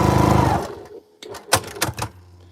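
A sewing machine stitches fabric in a loud, close burst of about half a second, then stops; a few sharp handling clicks and knocks follow.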